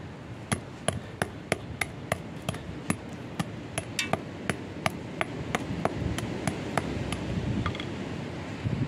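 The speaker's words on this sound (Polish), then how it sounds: "po prostu biorę młotek, rozbijam ją na drobno" A hammer strikes a brick again and again, breaking it into small pieces. Sharp, ringing blows land at a fairly steady pace, about two dozen of them, close up over a low background hum.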